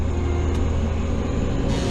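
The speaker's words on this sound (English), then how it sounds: "So I'm going to turn the header on" A steady, droning engine and machinery rumble from an alfalfa mower header runs without a break throughout. It is close, even in level, and has no speech.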